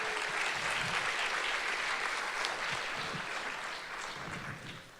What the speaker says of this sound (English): Everyone give them a massive round of applause.